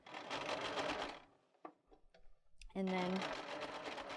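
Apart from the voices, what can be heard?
sewing machine stitching t-shirt fabric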